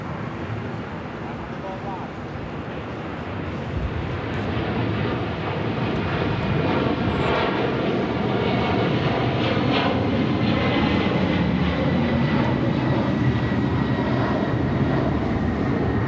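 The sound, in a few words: Delta 119 Heavy jet departing LAX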